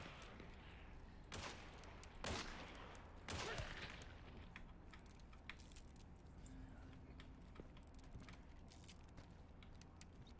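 Video game gunfire from zombies in a town setting, heard as a few sharp bursts of shots early on over a steady noisy game soundscape. The shots are fairly faint and fade into continuous background noise.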